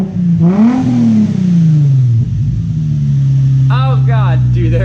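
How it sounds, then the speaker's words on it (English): A car engine revs up and settles into a loud idle, with a voice speaking over it briefly near the start and again later. "I'm pretty sure you can give it some revs if you want"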